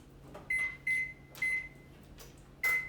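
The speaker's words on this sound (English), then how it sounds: "the first step for our cinnamon pie is to preheat your oven to 350 degrees" An oven control panel beeps as it is set to preheat to 350 degrees: four short, bright electronic beeps spaced unevenly over a faint background hum, with a few soft clicks between them, close and alone.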